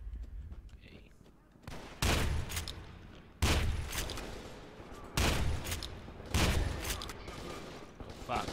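Shotgun blasts in the PC shooter F.E.A.R. 2 during an arena fight: four heavy booming shots roughly a second and a half apart, each trailing off into echoing game noise, with quiet murmuring beneath.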